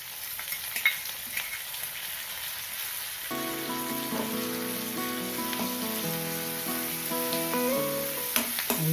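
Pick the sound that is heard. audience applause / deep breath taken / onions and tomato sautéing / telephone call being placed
onions and tomato sautéing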